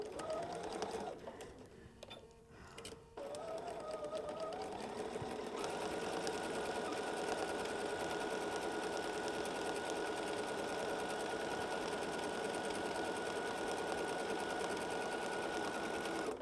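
Sewing machine stitches a seam on a flannel rag quilt, starting with a few short bursts and then running in a steady, fast, continuous hum.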